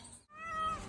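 A cat gives a single drawn-out meow, close and clear, rising and then holding after a brief pause.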